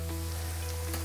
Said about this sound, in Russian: Лук поджигается вот этими коричневыми штучками, да, это вкус появляется у лука